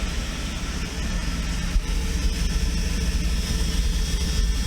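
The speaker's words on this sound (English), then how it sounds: "I hear catalytic converter a little rattling" A Mercedes S600 idles with a steady, low, broadband engine drone and a slight catalytic converter rattle, continuous and even throughout with no breaks.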